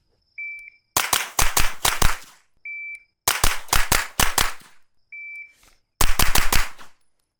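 Four suppressed rifle shots from a JP-5 fitted with a HUXWRX Flow 9K Ti suppressor ring out in close, sharp succession, with bursts of rapid reports separated by short electronic timer beeps and brief pauses.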